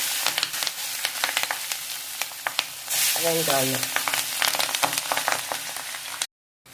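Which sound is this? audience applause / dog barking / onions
onions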